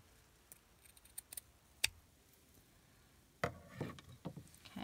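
Scissors snipping through craft material: a few quiet, separate cuts, then a burst of louder, quicker snips near the end, close and alone in a quiet room.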